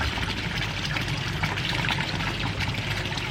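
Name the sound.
water flowing from a pond return over a koi's gills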